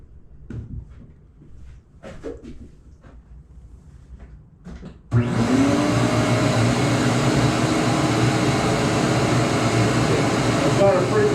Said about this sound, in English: It's gonna get a little noisy when I turn this vacuum cleaner on.